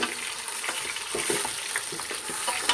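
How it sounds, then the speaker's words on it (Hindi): Beef trotters frying in a pan with ginger and garlic paste, giving a continuous close sizzle broken by soft scraping stirs. "लहसुन का पेस्ट डाल के इनको थोड़ा फ्राई करेंगे।"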